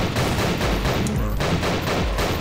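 Gunfire in the video game Nightmare House 2 comes as a dense, loud, continuous run of rapid shots over the game soundtrack, steady throughout, with no talking.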